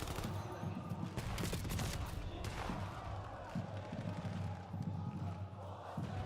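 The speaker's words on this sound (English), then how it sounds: "And wow, a lot of shots just thrown." Rapid bursts of gunfire from a Call of Duty League esports match crackle densely throughout, mixed with game sounds and crowd-like noise at a moderate level, with voices in the background.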